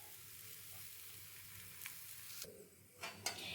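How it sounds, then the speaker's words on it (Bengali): An aloo paratha sizzles steadily on a hot tawa, a soft, even frying hiss with a couple of faint clicks near the end. "এখন আমি গরম তাওয়ার মধ্যে দিয়ে দিয়েছি এই পরোটাটা।"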